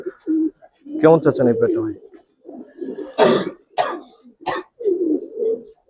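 Giribaz coloring pigeons coo in short, low, throaty bursts close by, repeating through the scene while someone talks over them.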